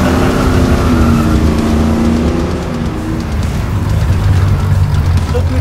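A car comes in with a loud, close engine roar that holds steady with slight shifts in pitch as it approaches, and voices can be heard faintly underneath.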